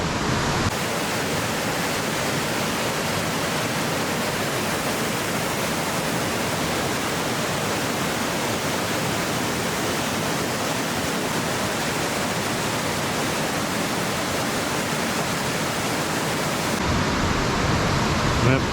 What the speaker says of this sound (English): That waterfall is impressive.